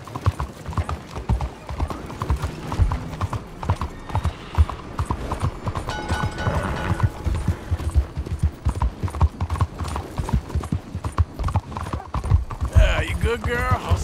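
Horse hooves pounding in a steady galloping rhythm in Red Dead Redemption 2, continuous and close for the whole stretch, with a character's voice heard over them and a whinny-like cry near the end.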